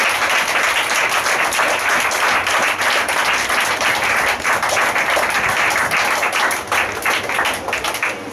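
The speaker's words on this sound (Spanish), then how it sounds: "Denle un fuerte aplauso al Señor." A church congregation at a Spanish-language sermon claps loudly and steadily for several seconds, a dense sustained round of applause that thins slightly near the end.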